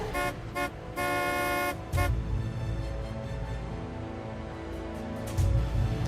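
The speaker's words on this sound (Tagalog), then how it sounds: "Dito pa ako busina ng busina." A car horn honks in several short toots, then one long sustained blast, followed by a low idling rumble and a final brief honk, close and loud.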